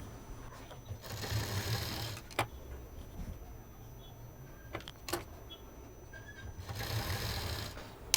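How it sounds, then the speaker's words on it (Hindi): Sewing machine stitching a 4-inch fabric loop for a traditional bandanvar, heard in two quiet runs of fast steady whirring, one early and one near the end, with clicks and handling noises in the pause between. "इस 4 इंच के लूप को हम इस तरह से यहाँ पर सिल देंगे"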